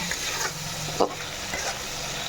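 Chital fish and fresh aubergine curry with salt and turmeric frying in a little oil, a steady close sizzle with a soft stir or scrape partway through.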